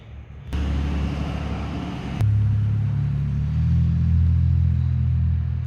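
Steady low rumble of road traffic outside, a vehicle engine droning close by and swelling in loudness, with no voices.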